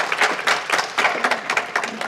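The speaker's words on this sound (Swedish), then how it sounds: "Vi applåderar." A small audience applauds at a Swedish conference forum on gender equality in transport, with sparse, uneven clapping that sounds close and fades quickly.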